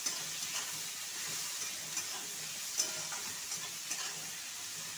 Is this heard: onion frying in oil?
yes